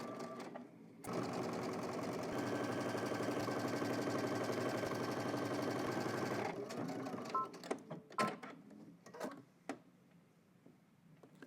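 A sewing machine stitches a seam on a rib knit band for a casual shirt, running steadily and loudly for about five seconds after a brief start, then stopping, followed by scattered fabric handling clicks and rustles.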